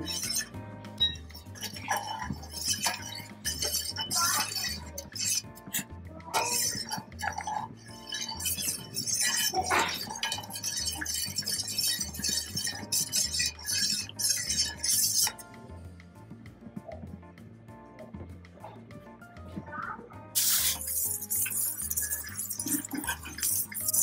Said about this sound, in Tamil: பால் சேர்த்ததுக்கப்புறம் கொஞ்சம் லைட்டாக கிளறி விட்டுக்கோங்க